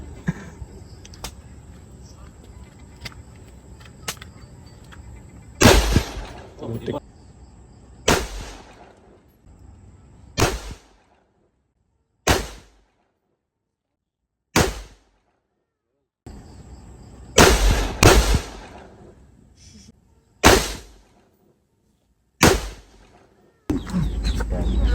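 Quadro Alas firecrackers go off as a run of sharp, loud bangs, about ten separate blasts spaced irregularly with brief silences between, and some outdoor murmur before the first reports.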